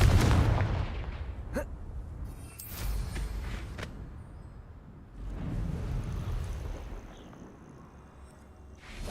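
Explosive Confringo spell blasts in the video game Hogwarts Legacy, a few sharp booming bursts with rumbling decay over a steady game ambience, with quieter gaps between impacts.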